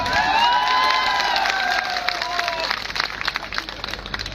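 Applause and cheering from a large crowd at a political rally, loud and sustained, with excited shouts and whistles over the clapping that thins out toward the end.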